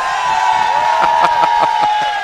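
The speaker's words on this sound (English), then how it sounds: "A well-deserved cheer of relief," A loud crowd cheers and whoops at the Evo Japan 2018 Street Fighter V Arcade Edition top 8 fighting game tournament, a dense roar of voices rising in bursts with a few sharp shouts.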